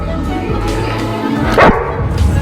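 A dog barks at a kitten. A short bark stands out midway over a busy background hum of noise and music.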